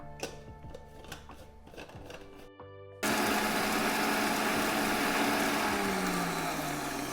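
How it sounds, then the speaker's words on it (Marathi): An electric kitchen mixer whirs loudly and steadily as it grinds five or six green chillies, starting abruptly after a few seconds of clinking and handling noises. "पाच सहा हिरव्या मिरच्या घेतलेल्या ते आता हे बारीक करून घेते मिक्सरला"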